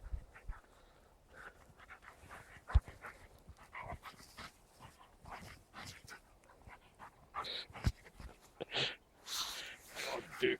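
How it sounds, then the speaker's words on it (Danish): A dog pants rapidly and audibly up close, with occasional snorts and whimpers, while people talk nearby. "Det er en dygtig hund"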